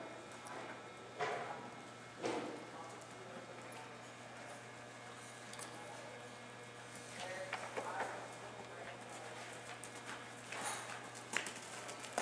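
A horse trotting and changing direction during a riding lesson, with distant, muffled hoofbeats on the ground and scattered thuds under a steady low hum.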